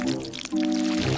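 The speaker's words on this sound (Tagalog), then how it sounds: "Oh, may tumutulo sa akin at ito'y malambot at nakakadiri." Thick chocolate paste dripping and pouring onto a person during a kitchen challenge, a wet, continuous pouring sound with sustained tonal layers, close and moderately loud, briefly dipping midway.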